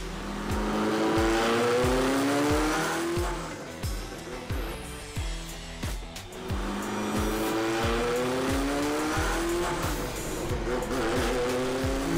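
A Ferrari drives hard with its engine revving up through gears in repeated rising sweeps, tires squealing, heard close from inside or beside the car; occasional voices in the cabin.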